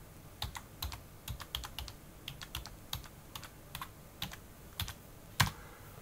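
A password typed on a computer keyboard running Manjaro Linux: quick, irregular bursts of close, crisp keystrokes with short pauses, fairly quiet, with no voices.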